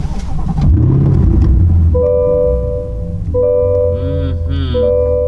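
A 2022 Chevrolet Corvette Stingray engine cranks and catches with a loud, close roar, then settles into a rumbling idle with a couple of sharp revs rising and falling, while a voice speaks briefly at the start.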